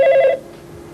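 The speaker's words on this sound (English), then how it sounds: "telephones ringing" Office telephone bell ringing on a Saturday when the line is normally closed, one short trilling burst that cuts off abruptly and then leaves faint room noise.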